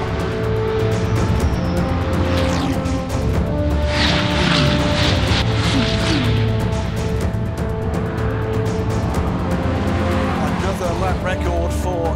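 McLaren 650S GT3 race car lapping Mount Panorama at the Bathurst 12 Hour, its engine a loud continuous roar with shifting pitch throughout, while a commentator talks over it.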